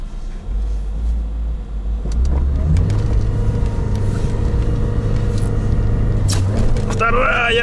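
An SUV engine revs hard as it drives through deep snow, a loud, close, sustained rumbling roar that climbs in pitch after a couple of seconds and holds, with shouting voices over it.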